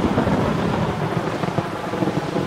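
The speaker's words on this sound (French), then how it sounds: "un effrayant coup de tonnerre retentit" A frightening thunderclap rolls through a stormy wood, a loud continuous rumble with rain-like hiss, sustained throughout without voices.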